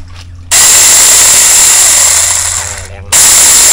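A budget cordless electric saw, priced at 700 baht, runs unloaded with a loud, high-pitched motor whine that holds for a few seconds, dips briefly, then surges again at full speed.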